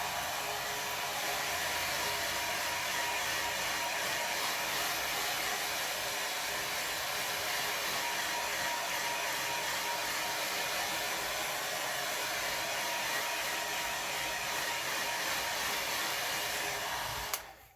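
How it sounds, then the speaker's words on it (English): A hair dryer runs steadily on a low setting, a continuous airy whoosh with a faint motor hum, unbroken until it cuts off at the end. "I put the blow dryer on low"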